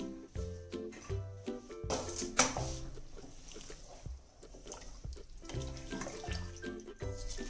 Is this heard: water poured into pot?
yes